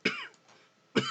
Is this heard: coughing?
yes